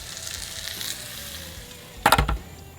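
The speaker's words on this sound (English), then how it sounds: "I'm hearing the sizzle, I'm hearing the bubbles." Beef fat rendering in a pan gives a soft steady sizzle and bubbling, then a brief louder burst of crackling spatter near the end.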